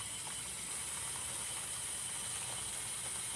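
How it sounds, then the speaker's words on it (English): Spaghetti sauce simmers in a pan with a steady, even hiss of bubbling and steam that runs unbroken at a low level throughout. "Now I can let the sauce simmer for a little bit"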